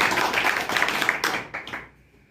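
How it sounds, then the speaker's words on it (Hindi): A meeting audience gives a round of clapping, a dense crackle of many hands that runs for nearly two seconds, ends in a few last claps and then falls silent. "एक बार ताली हो जाए सर इन लोगों के लिए।"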